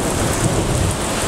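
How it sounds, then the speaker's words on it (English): Thunder rumbling through a heavy rainstorm, with steady loud rain pouring onto the ground in a constant wash and deep low thunder rolling beneath it, no voices. "You can hear the thunder."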